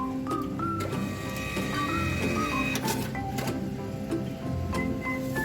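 A small XP-80C receipt printer prints a test page, whirring and buzzing continuously at close range, with rapid mechanical chatter and faint electronic beeps.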